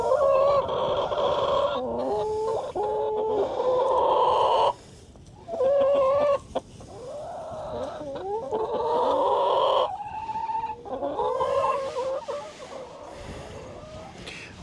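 Several chickens cluck and squawk close by, a busy overlapping flock chatter that carries on throughout with brief pauses.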